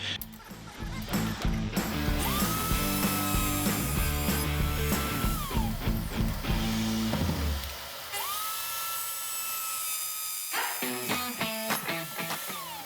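A power tool sands down wood for a medal rack, a loud, steady, high-pitched motorized whine that rises and drops in pitch, cuts out briefly, then starts up again.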